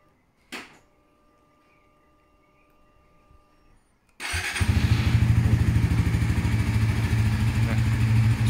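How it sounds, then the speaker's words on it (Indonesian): A Suzuki GSX motorcycle starts at the push of the starter after a short click, then idles with a steady, close, smooth throbbing engine note. "Nah suaranya masih halus banget guys tuh, buat teman-teman dengerin ya."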